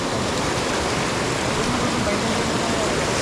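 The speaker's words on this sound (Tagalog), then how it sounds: "Nagkaroon na ng pahirapan sa pagtawid ng ilog dahil sobrang lakas nga ng agos." A strong river current rushes over slippery rocks at a waterfall, filling the air with a dense, loud, steady roar of churning water, close and unbroken.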